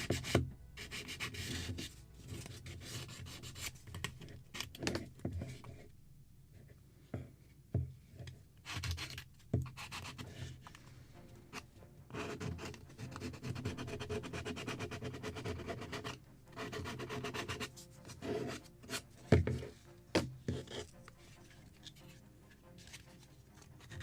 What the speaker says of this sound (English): I can sand with regular sandpaper.